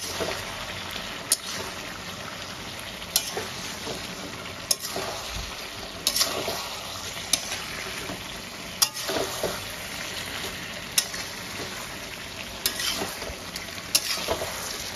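Chicken with prawn paste is sautéed on a high flame, making a dense, continuous sizzle broken by sharp scraping clicks from a spoon stirring the pan at regular intervals.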